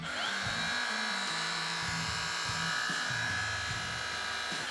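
A Milwaukee 12V cordless mini belt sander runs steadily, giving off a continuous high motor whine and belt buzz that wavers slightly in pitch, close up and alone.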